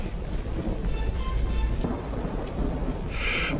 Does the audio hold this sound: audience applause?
no